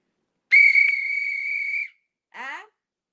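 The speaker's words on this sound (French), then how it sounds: "Il faut prévoir son sifflet." A whistle is blown once in a long, loud, steady blast of about a second and a half, followed by a short separate chirp, with no voices over it.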